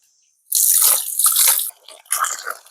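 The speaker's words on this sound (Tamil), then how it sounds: "தண்ணி விட்டு வடிவாக கழுவோம்" Soaked chickpeas being washed with water: two close, splashy bursts of sloshing and running water separated by a short pause, loud against a quiet background.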